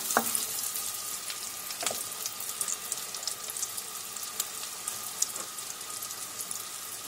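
Butter and a garlic clove fry in a pan for a quick breakfast, a soft continuous sizzle heard close but fairly quiet, with a couple of faint knocks as it is stirred.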